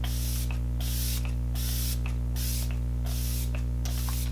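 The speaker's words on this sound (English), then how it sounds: "I'm going to be setting my face with the Kat Von D setting spray." Kat Von D setting spray misted onto a face in repeated short bursts, about eight quick hissing puffs over a steady background hum, close and fairly loud.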